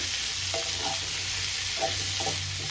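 Onion and tomato fry in a pan with a dense, even sizzle that holds close and steady, a few soft stirring knocks showing through, and nobody speaking.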